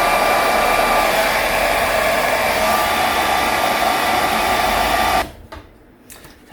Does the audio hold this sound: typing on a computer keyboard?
no